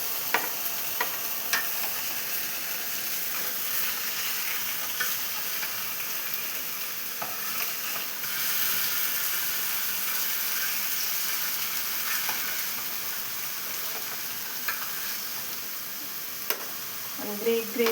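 Gravy masala for fish curry frying in a pan, a continuous even sizzle with sparse clicks and scrapes of a spoon, close and steady throughout with no clear talking.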